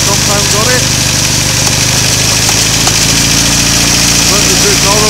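A BSA A10 Super Rocket motorcycle engine runs with its primary cover removed, idling in a loud, steady mechanical clatter close by, with a voice speaking over it.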